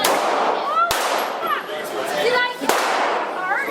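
Two or three loud gunshots at an indoor gun range, spaced apart, cutting through a noisy background of people talking and chatter.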